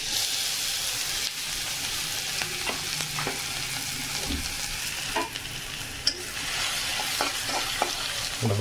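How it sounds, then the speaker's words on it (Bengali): Chopped garlic fries in hot oil in a pan for a dish of fried greens, giving a steady, close crackling sizzle with occasional spatula scrapes and pops throughout. "ভালো করে ভেজে নেব"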